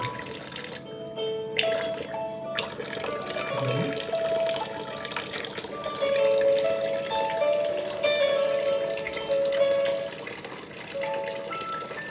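Acidic water runs from a Water Guard ionizer tap in a home, a steady stream splashing into a sink for the whole stretch, with a few faint background tones and clatters underneath.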